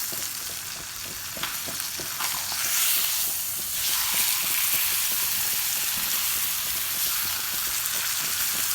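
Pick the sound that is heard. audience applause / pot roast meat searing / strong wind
pot roast meat searing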